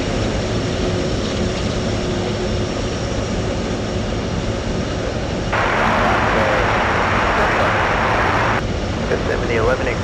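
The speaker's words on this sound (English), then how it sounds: "Western Global seconds away from landing" Loud, steady roar of a Western Global cargo plane landing at Anchorage airport on a windy day, growing brighter and more intense partway through, over constant wind and a talking voice.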